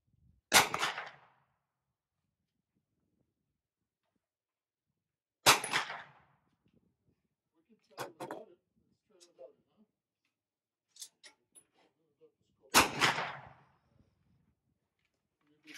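Four sharp, loud unsuppressed gunshots from a Kel-Tec Sub2000 carbine, spaced several seconds apart outdoors, with brief quieter clicks and handling sounds between them.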